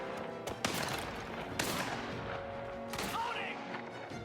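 Dense, continuous gunfire in the video game Mafia: The Old Country, with sharp bursts standing out, layered over a busy background of game noise and rumble.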